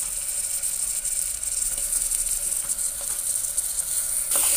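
Tomatoes go into a pan of ginger garlic paste frying in oil for a prawn biryani, giving a steady moderate sizzle with light stirring scrapes and a brief louder burst near the end.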